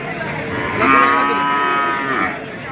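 A bull at a cattle market gives one long, loud, rich moo. It swells in the middle of the clip and fades toward the end, heard alone without talk.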